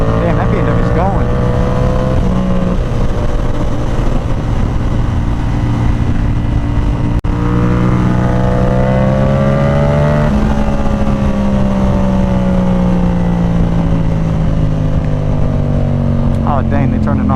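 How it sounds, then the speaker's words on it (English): A BMW accelerates hard past a rider on a Yamaha R7, its engine note climbing and sweeping by at close range over a steady motorcycle drone, with a voice talking over it. "Damn, that BMW's going."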